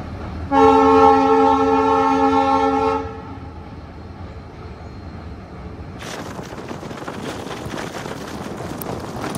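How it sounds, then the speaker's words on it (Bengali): A train sounds a long, loud horn blast, then rolls across the Sevoke bridge over the Teesta River with a low rumble that swells into a wide, rushing clatter near the end. "এই হচ্ছে সেবক ব্রিজ দিয়ে ট্রেন যাচ্ছে"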